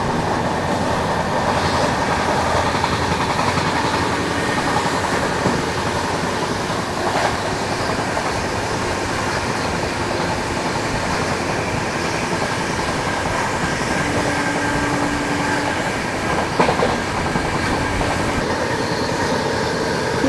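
An express train rounds a bend along a lakeshore with hills and water on either side, its rail noise a loud, continuous rumble with faint clatter and brief wheel squeals, heard from on board.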